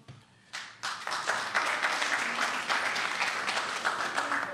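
Members of the public in a meeting room break into applause, opening with a few scattered claps and then swelling into steady, moderately loud clapping.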